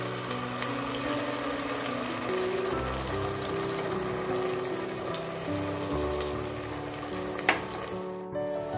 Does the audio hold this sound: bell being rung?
no